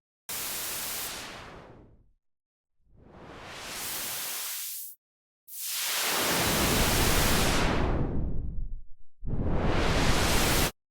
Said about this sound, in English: we can, on top of the white and pink noise, also produce a wide range of other types of noise